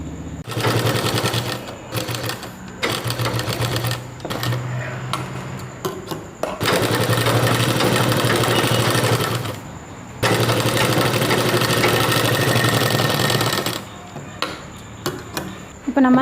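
A sewing machine stitching pieces of a baby dress, loud rapid mechanical chatter in several long bursts separated by short pauses, close up, with no voice over it.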